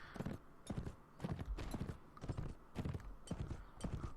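Horses gallop in the video game Mount & Blade: Fire and Sword, a steady run of loud, close hoof clip-clops in rhythmic bursts, with a faint whinny.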